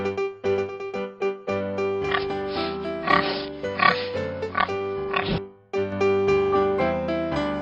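A pig oinks and grunts in a series of short, choppy bursts with a brief pause near the end, set against continuous background music.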